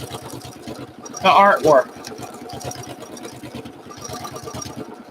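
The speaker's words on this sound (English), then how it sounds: "And then I'm going to continue to sew back in here and then put a lot of dark thread here." A sewing machine runs steadily with a fast rhythmic mechanical chatter while stitching thread painting on fabric artwork, and a person talks over it for much of the time.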